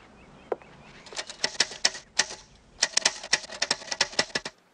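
A typewriter clacks in quick bursts of sharp keystrokes, with a short pause between two runs, close and crisp with no talking.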